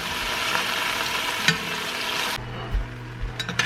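Beef stew meat browning in a pot gives a steady, close sizzle for most of the clip. It drops to a quieter crackle partway through, with a few clinks and knocks near the end.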